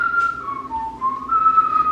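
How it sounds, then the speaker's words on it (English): A person whistles a short, wavering melody while doing chores, clear and close, a single pure tone that slides up and down with a brief pause midway and nothing else heard. "This one's over here whistling while he works."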